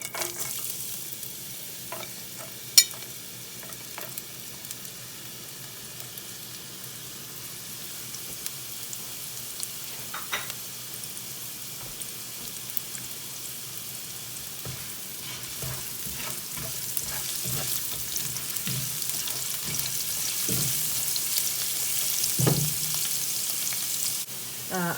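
Garlic, broken cinnamon sticks and star anise sizzle steadily in hot oil, a soft continuous crackle with occasional clinks of stirring, growing slightly louder toward the end, with no talking.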